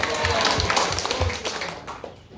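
In a church, a few people clap sparsely, scattered claps and taps heard nearby that thin out and fade toward the end.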